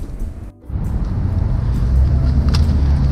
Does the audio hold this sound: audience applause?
no